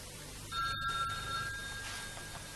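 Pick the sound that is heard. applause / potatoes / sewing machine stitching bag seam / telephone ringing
telephone ringing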